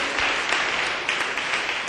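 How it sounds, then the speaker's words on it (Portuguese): A church congregation applauds during a service, dense steady clapping from many hands, loud and close, lasting throughout the brief moment. "Dá uma salva de palmas para ele, cenáculo."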